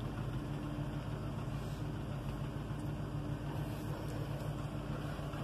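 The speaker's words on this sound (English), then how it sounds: "I have to let it sit and idle for a few minutes before I can drive it" A 1973 Dodge Titan motorhome engine idling while warming up after a cold start, a faint, even, continuous low rumble with no change in pace and no voices.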